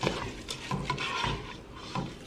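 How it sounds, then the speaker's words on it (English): A spoon stirs lentils around a pot, scraping and knocking in a steady run of strokes with faint sizzling beneath, close and moderately loud. "I'm gonna mix everything in."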